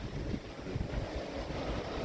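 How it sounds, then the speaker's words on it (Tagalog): Strong wind buffets the microphone on a boat near Aparri, a constant roaring gust over a low rumble with a faint wash of water underneath. "Lakas ng hangin dito."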